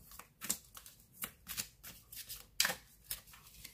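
Tarot cards shuffled for a romantic card reading, a rapid series of crisp riffling bursts, close and fairly quiet, with no speech.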